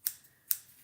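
Two crisp scissor snips close by cut into a curly pixie wig for an angled cut, spaced about half a second apart in a quiet room.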